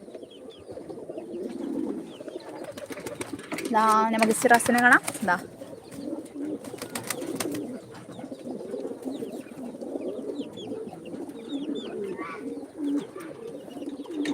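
Pet pigeons kept at a Kerala home coo softly in a steady low murmur, with a burst of wing flaps and a few chirps from other birds, while a person speaks briefly.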